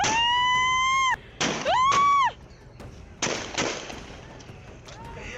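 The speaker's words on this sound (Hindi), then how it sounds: "इस युवक ने बंदूक में कारतूस लोड किया और हवा में उठाकर दनादन ट्रिगर दबाने लगा" A rifle fired into the air during a celebration of a panchayat election win in Jamui, India, with several sharp cracks in two pairs. They cut through a loud, wavering tonal sound, and background noise sits between the shots.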